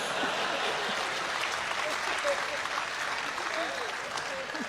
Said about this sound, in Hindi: और अब आपकी तालियां उठेंगी।